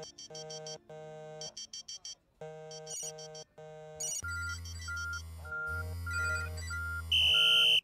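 A mobile phone plays a melodic electronic ringtone of short, bright tonal phrases with brief gaps, shifting into a fuller, louder tune that ends on a sustained high note, with no talking over it.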